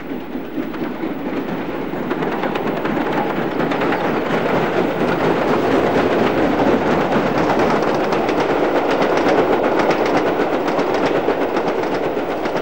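An LNER steam locomotive, number 4771 Green Arrow, rumbles past steadily at close range, a continuous loud roar with faint rhythmic clatter and no voices.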